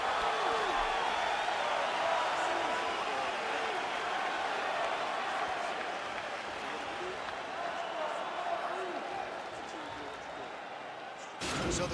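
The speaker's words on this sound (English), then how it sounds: "the crowd voicing its appreciation after that round" A crowd at a prelim MMA fight cheers and applauds after a round, a dense, sustained roar of clapping and voices that fills the arena and fades slightly before cutting off abruptly.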